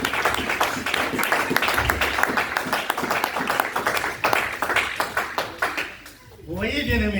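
A church congregation claps and cheers in a dense, continuous burst of applause mixed with voices, fading briefly near the end before resuming.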